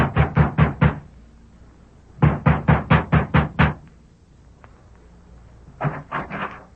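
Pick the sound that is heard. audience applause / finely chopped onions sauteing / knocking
knocking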